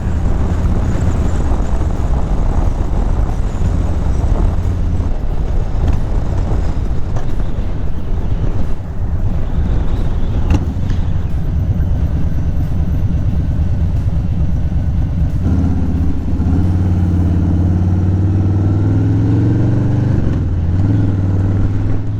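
Harley-Davidson Low Rider S motorcycle riding on a windy day, a steady loud engine roar with heavy wind buffeting throughout, the engine note rising into a deeper, throatier throttle drone toward the end.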